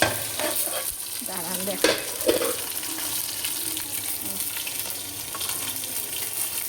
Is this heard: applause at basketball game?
no